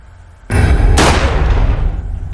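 Roblox gunshots: two loud blasts half a second apart, the second a sharp crack that rings on into a sustained roar.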